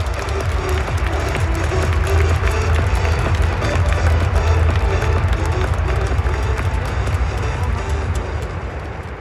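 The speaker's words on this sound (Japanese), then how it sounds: "皆様、今一度盛大な拍手をお送りください。" Stadium crowd at a Central League baseball season opener in 2021 gives sustained applause and some cheering for the lined-up managers, coaches and players, loud and continuous with a low roar beneath.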